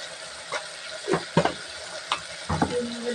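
Ginger-garlic paste is stirred into a simmering taro curry. Several close, uneven scraping and clinking strokes sound over a soft background sizzle.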